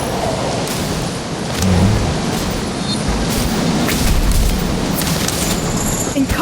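A wind spell in a Harry Potter video game sweeps out in a loud, rumbling whoosh that swells with deep booms, continuous for several seconds.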